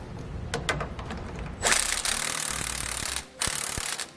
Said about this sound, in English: Now we're going to tighten down all 4 of our bolts supporting our sway bar.